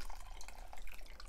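Warm bone broth dripping and trickling as cooked contents are squeezed over a pot of soup, a steady close liquid patter for a moment without talk.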